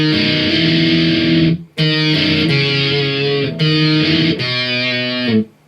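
Distorted electric guitar plays the interlude of a song in loud, sustained chord blocks, with short breaks between phrases and a sudden cutoff at the finish.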